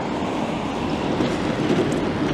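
A tram rumbles past on its tracks, a steady low rolling rumble with faint clatter and a slight squeal, fairly close and continuous.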